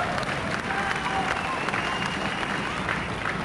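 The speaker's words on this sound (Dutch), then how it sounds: "Geef hem nog eens een hartstikke groot applaus." Audience applauding and cheering a winning bouncer at a Dutch televised bouncer speed-record contest, a steady dense wash of clapping with crowd noise that holds at the same level throughout.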